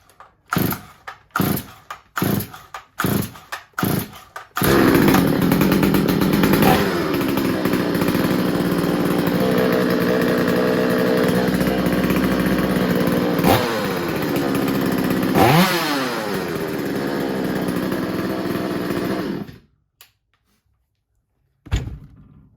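A restored Stihl or Husqvarna chainsaw is pulled over several times with sharp rope-start bursts, then roars to life after being choked, idling and revving loudly for about fifteen seconds before cutting out abruptly.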